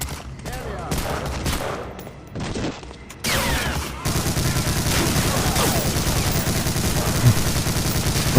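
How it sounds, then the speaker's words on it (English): Machine-gun fire in a first-person shooter game, starting with scattered bursts, then becoming sustained rapid rattling fire over a dense background of battle noise, loud and close. "machine gun."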